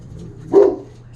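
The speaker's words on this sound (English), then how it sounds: "Sorry about the dog." One short, sharp dog bark in the middle, close and fairly loud against a quiet indoor room.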